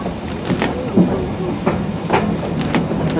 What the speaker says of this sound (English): Keep watching, as your train car crosses the road, usually.